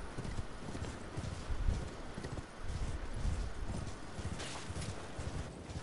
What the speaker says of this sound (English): Call my horse in.